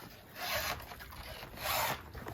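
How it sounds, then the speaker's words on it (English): A chainsaw chain is filed by hand in two distinct rasping strokes, each a gritty scrape swelling and fading, heard up close with no talk. "Sharpening your chainsaw?"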